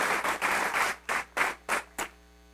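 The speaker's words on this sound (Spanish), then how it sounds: "Vamos a dar un aplauso a nuestro auditorio nacional" A studio audience applauds at a live Mexican broadcast of a religious program; a dense burst of clapping thins into a few separate, sharper claps that stop, leaving quiet room tone.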